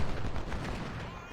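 Massed musket volleys from troops in a Civil War battle in the strategy game Ultimate General: Civil War, a dense, continuous crackle of overlapping gunshots rolling steadily at fairly loud level throughout the short stretch.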